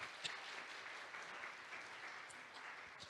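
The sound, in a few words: audience applause for the presenter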